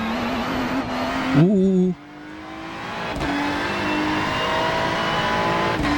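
A Ferrari race car engine in the iRacing sim racing game drones steadily throughout, with a sharp pitch swoop and brief drop as the revs fall and rebuild. A short exclamation is voiced over it.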